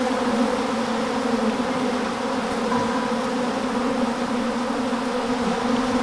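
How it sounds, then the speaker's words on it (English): A dense swarm of angry honey bees buzzes steadily around a suited beekeeper closing up a hive, a continuous, loud, close drone with no pauses. "I've got so many bees on me right now"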